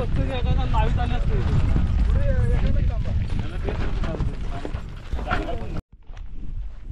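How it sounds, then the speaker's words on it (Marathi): Bullock cart race with bulls hauling a cart, loud rumbling wheels, hoof clatter and rattling mechanisms close up under excited shouting voices and crowd noise, with a brief dropout near the end. "तर आता निघाले आपले बैल"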